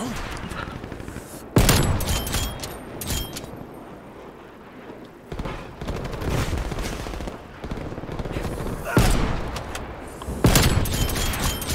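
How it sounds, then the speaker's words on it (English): Sniper rifle shots fired from a balcony in a video game, a few loud sharp cracks spaced irregularly across a busy background of game noise, with a voice talking at times. "I just keep sniping them from the balcony"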